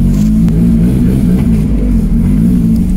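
A car engine, likely a Mazda Miata, hums and revs steadily at close range as the car drives onto ramps in a garage, loud and continuous with no talk.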